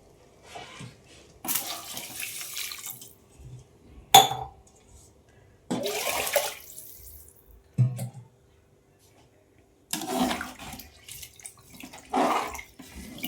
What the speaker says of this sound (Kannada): ನೆಕ್ಸ್ಟು ನೀರು ಹಾಕೊಳ್ಳೋಣ